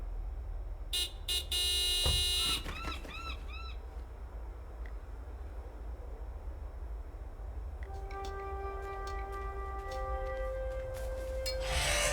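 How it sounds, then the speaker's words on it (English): A car horn honks in short repeated blasts within the Broken Sword 5 video game, followed later by sustained horn-like tones over a steady low ambient hum. "Do me a favor and honk the horn."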